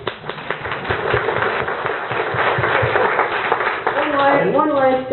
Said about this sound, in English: And let's give one more round of applause for citizens who care.